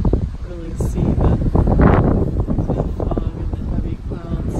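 Gusty wind buffets the microphone on a cloudy, foggy mountainside at Crawford Notch, New Hampshire, a steady loud rumble that swells midway while a person talks over it.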